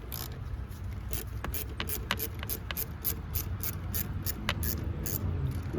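A ratchet wrench loosens a 10mm bolt on a Lexus LS460 during a serpentine belt change, giving a steady run of rapid, even clicks close by over a low background hum.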